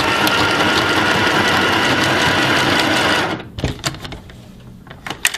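A mini JL sewing machine stitches its widest zigzag forwards and backwards to close a seam on a nurse's scrub top. The rapid, loud mechanical whirring runs for about three seconds, then stops, followed by a few scattered clicks and knocks.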